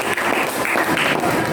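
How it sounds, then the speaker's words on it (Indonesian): Classroom applause for group 3 in a chemistry lesson: a dense burst of many hands clapping close by, steady and loud for the whole moment. "beri tepuk tangan untuk kelompok 3"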